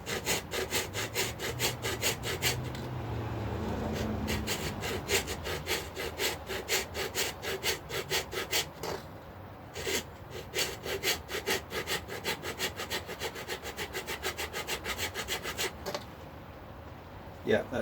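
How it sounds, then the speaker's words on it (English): A file rasps back and forth across a lump on a resin-topped guitar, quick rhythmic strokes repeating steadily and close, with a brief low voice in the background early on. "So let me just quickly file this straight. There's a little lump on here."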